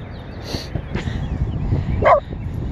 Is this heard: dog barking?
yes